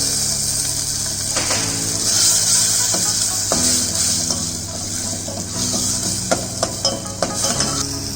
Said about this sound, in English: add little bit of chopped garlic, add chopped tomatoes